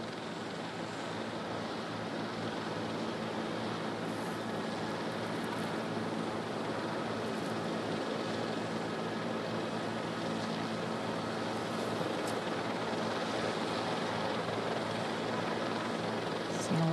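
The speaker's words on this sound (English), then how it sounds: "And here it comes in now, this JetBlue Flight 292 with that front nose gear pointed sideways." JetBlue Flight 292 airliner landing at LAX with its front nose gear jammed sideways, a steady broad roar of engine and rolling noise with wind rushing over the microphone, sustained and distant-to-moderate throughout.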